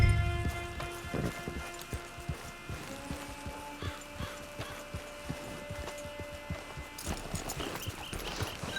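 Horse hooves clip-clop in steady rhythm through Red Dead Online, near and clear over a layer of game ambience and music tones, with no talk.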